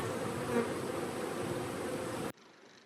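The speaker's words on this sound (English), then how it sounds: "it's buzzing with so many insects. Bees, wasps, hornets, butterflies." Dense, steady buzzing of many bees, wasps and hornets outdoors near a woodworking spot, a continuous close drone that cuts off abruptly near the end, leaving quiet background.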